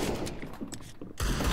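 Weapon reloading in CS:GO, a run of mechanical clicks and metallic ratcheting over busy game noise, ending in a louder burst of sound near the close.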